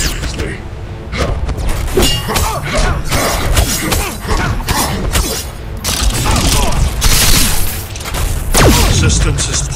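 A cyborg character fires an optic blast attack in a video game, producing dense, continuous crackling bursts, booms and mechanical clatter, loud and layered under in-game voice.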